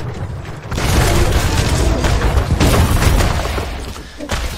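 A deep bomb explosion booms in the Heroes of the Storm match, on a Cho'Gall hero, loud and broad, with a dense rumbling burst that swells and holds for a few seconds.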